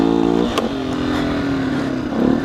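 2019 Beta 125 RR S two-stroke motorcycle engine held at full throttle, a loud close buzzing wail that steps in pitch and climbs again near the end.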